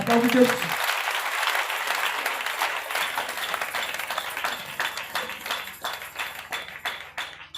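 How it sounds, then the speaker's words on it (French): A church congregation at a deliverance service claps and applauds in a dense, lively burst that gradually thins into scattered, rhythmic claps, with voices mixed in. "Acclame très fort Jésus"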